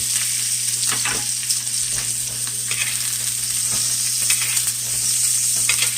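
Ribeye steak cooking in a hot pan gives off a loud, continuous close sizzle with crackling spits and hiss, steady throughout with no speech.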